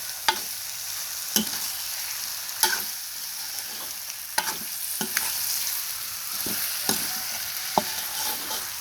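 Catfish stir-fried with dried chili and holy basil sizzles steadily in a pan, punctuated by sharp, irregular spatula scrapes and clacks against the metal.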